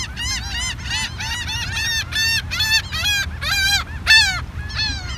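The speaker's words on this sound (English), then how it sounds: "This seagull keeps flying right over me." A seagull at a Gulfport spring homestead gathering calls again and again as it flies overhead: a loud, nasal, honking run of squawks over a low outdoor rumble.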